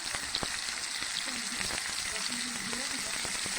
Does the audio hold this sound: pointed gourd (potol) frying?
yes